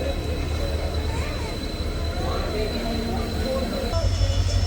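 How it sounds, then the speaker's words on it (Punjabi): A passenger train, No. 54553 on the Ambala Cantt–Dhuri line, pulls out of Kauli toward Patiala with a steady, loud rolling rumble heard from inside, with a faint murmur of voices underneath. "ਆਪਣੀ ਟ੍ਰੇਨ ਕੌਲੀ ਤੋਂ ਚੱਲ ਪਈ ਹੈ ਪਟਿਆਲੇ ਵੱਲ ਨੂੰ"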